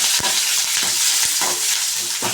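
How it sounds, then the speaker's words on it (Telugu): Dried red chillies and curry leaves fry in hot oil for a cabbage curry, giving a steady loud sizzle broken by several sharp stirring scrapes of a spoon in the pan. "అలాగే మిరపకాయలు ఒక నాలుగు కరేపాకు వేయించుకున్నామండి"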